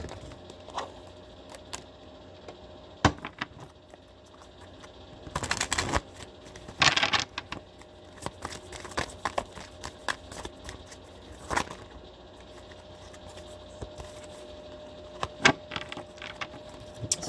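Playing cards being shuffled and handled, with scattered riffling bursts and soft flicks and taps spread across the clip, some louder snaps standing out against a quiet background.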